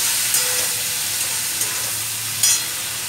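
Salted vegetables fry in a pan with a steady, loud close sizzle and hiss, broken by a few brief stirring scrapes, with no talking.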